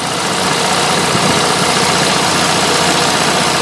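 An Onan propane generator engine runs under a 3,000-watt load, a loud, steady, close drone with a dense mechanical roar and slight vibration, no pauses.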